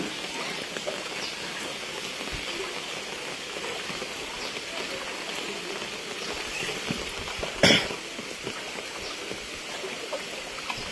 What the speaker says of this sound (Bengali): আমার এতটুকু বয়সে কখনো এরকম বৃষ্টি আমি দেখি নাই, যে বৃষ্টিটা এখন হচ্ছে।